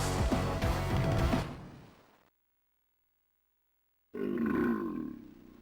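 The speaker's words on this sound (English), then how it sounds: "And the game burps at you." A Mega Drive video game plays a loud burp-like grunt as its death sound, a rough low belch over game noise that fades into silence, followed by another burst of low rumbling game audio.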